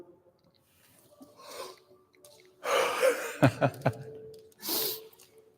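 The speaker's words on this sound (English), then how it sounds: "One more big yawn." A big, breathy yawn taken during a fascial stretching session, with drawn-out inhale and exhale sounds in a quiet room, ending in a final airy sigh.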